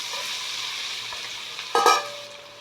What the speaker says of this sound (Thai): น้ำมันร้อนเราก็เอาเต้าหู้ลงไปทอดเลยค่ะ